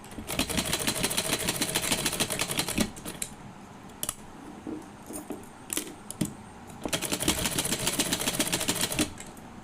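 A sewing machine stitches a 1.5-inch seam on an old saree being made into a gown. It runs in fast, rhythmic rattling bursts, pauses with a few short clicks in the middle, then resumes, close and clear with no voices.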